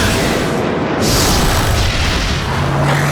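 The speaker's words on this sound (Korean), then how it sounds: "미사일 발사!" A cartoon missile launch and explosion from an animated robot series: a loud, sustained, rumbling boom with heavy low-end roar filling the whole stretch, up close and without speech.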